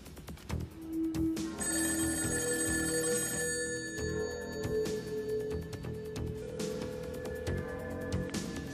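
Telephone rings repeatedly in a steady pattern of bright bursts over a background of music or room tone, with nobody picking up, continuing through the whole stretch.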